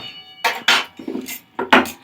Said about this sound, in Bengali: আবার কড়াই বসিয়ে দেব।